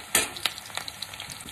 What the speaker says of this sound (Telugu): గోల్డెన్ కలర్ వచ్చే వరకు ఉల్లిపాయల్ని వేయించుకోవాలి.